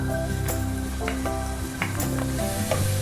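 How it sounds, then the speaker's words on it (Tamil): Ground masala paste frying with softened onions in a pan for fish biryani: a continuous crackling sizzle with scattered sharp pops and spatters, close and fairly loud, with no voices. "இந்த ஸ்டேஜில் நம்ம அரைச்சி வச்சுருக்க இந்த மசாலா பேஸ்ட்டை வந்து ஆட் பண்ண போகிறோம்."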